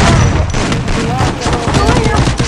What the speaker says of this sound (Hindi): पैर पे गोली मार रहे हो